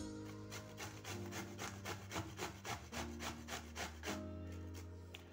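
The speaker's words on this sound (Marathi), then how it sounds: "तर संपूर्ण लौकी मी किसून घेते आहे" Bottle gourd (lauki) being grated by hand on a grater, a steady run of rhythmic rasping strokes at close range over a low background hum, with no talking.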